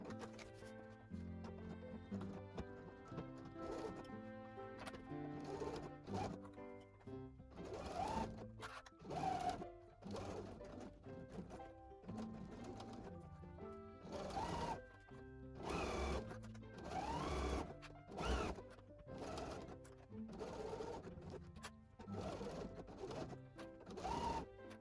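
A sewing machine stitching a pouch seam at a quarter-inch allowance, running in repeated bursts of rhythmic mechanical whirring and clatter with short pauses between runs, fairly close and steady.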